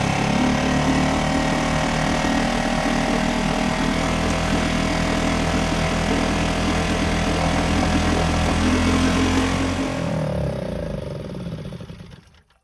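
An outboard engine on a small tender boat runs steadily at a fast idle, a loud continuous buzzing hum that holds for about ten seconds before winding down and cutting out.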